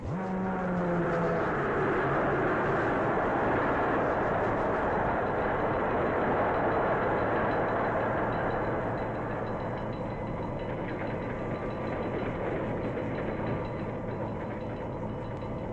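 A 1940s passenger train with joined cars rolls steadily along the rails. A loud, continuous rumble and clatter fills the scene close up, with a brief low tone near the start.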